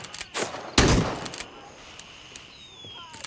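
AK rifle fire in the shooter game Gray Zone: two sharp, loud bursts of rapid shots up close, then a scattering of lighter clicks and metallic ticks fading into quiet.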